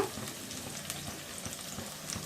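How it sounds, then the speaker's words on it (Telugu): Chopped spring onion bulbs and green chillies fry in a pan for a spring onion egg curry, giving a steady close sizzle and crackle with faint stirring clicks and no talk. "తరిగి పెట్టుకున్నటువంటి ఉల్లికాడల్లోని ఉల్లిపాయలను, తరిగి పెట్టుకున్నటువంటి పచ్చిమిరపకాయలను వేసుకొని వేయించుకోవాలి."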